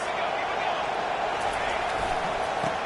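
Steady stadium crowd roar from the College Football 25 video game, a dense, continuous wash of noise at constant loudness throughout with no distinct cheers or claps standing out.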